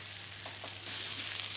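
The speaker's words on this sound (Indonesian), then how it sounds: "kita gongso hingga benar-benar matang dengan api sedang saja ya" Spice paste with kaffir lime leaves stir-fries over medium heat, a steady close sizzle with a few soft scraping stirs.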